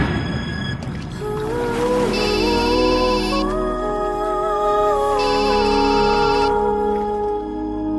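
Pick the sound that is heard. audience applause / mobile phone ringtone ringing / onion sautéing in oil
mobile phone ringtone ringing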